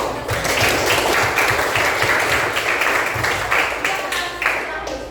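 Applause from an audience at a teacher-training (PPG) exam session at Universitas Muhammadiyah Riau, steady clapping filling the whole stretch at close range, with voices mixed in underneath.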